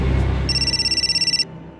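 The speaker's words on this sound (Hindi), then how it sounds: "घंटी बजी" A telephone rings in a police crime branch office: a single burst of rapid electronic trilling lasting about a second, then it stops, leaving a quiet room.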